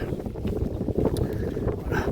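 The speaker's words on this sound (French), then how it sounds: "Il y a toujours du vent" Wind gusting outdoors along a rural pilgrimage road in Spain under threatening weather, a steady loud rumble buffeting the microphone throughout.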